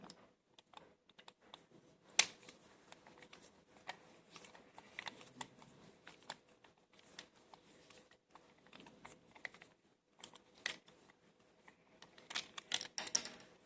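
A PER plastic plumbing tube being cut at the end with a pipe cutter, giving a string of sharp, close clicks and snaps spread irregularly through a quiet room, with no one speaking.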